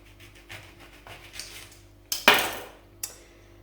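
A knife slices a lemon in half on a cutting surface: one sharp, clattering cut stands out clearly over quiet background clicks, followed by a short, lighter knock.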